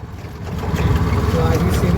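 Tempo auto-rickshaw engine droning steadily while riding, with a low rumbling hum and wind buffeting the microphone, growing slightly louder and rougher through the short ride; people talk faintly over it.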